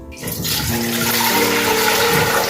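Water splashes steadily into a cooking pot for cornmeal porridge, a continuous rushing pour with a faint rising tone as the vessel fills.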